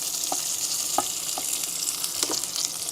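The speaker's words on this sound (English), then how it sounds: "I'm obviously making bacon" Bacon sizzles steadily in a pan with a dense, bright hiss. A few sharp pops and crackles stand out now and then. No one speaks.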